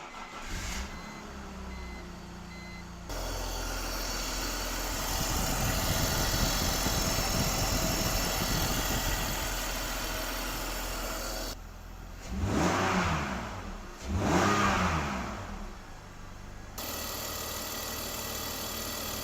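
A BMW E46 330i with a freshly rebuilt DISA valve idles steadily, then gets two sharp revs in quick succession before settling back to a smooth idle, heard up close.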